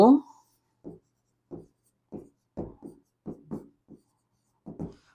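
Chalk or marker taps and scratches out a math question on a classroom board in short separate strokes, about a dozen spaced through the stretch, close and clear against near silence after a brief opening voice.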